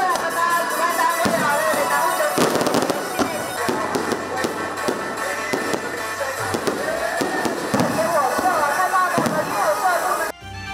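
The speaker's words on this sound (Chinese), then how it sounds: "七彩缤纷、绚丽灿烂的烟火秀，为热闹非凡的夜晚点亮星空" Fireworks crackle and pop in rapid bursts at an evening temple festival in Caotun, Nantou, loud and continuous with a crowd and voices underneath.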